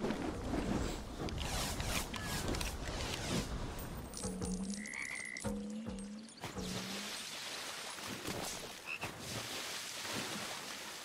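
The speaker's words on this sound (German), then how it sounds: "Und was angeln wir? Einen riesen Frosch." A giant frog croaks in a Lego Harry Potter game while being fished, giving several short, tonal croaks in quick succession over a steady watery background ambience.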